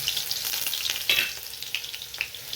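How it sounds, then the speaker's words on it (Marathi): Cumin and mustard seeds crackling in hot oil with garlic for a home-cooked vegetable dish, a close bright sizzle peppered with sharp popping spits, no one speaking. "चला आता तेल तापले, जिरे मोहऱ्या घालून घेते."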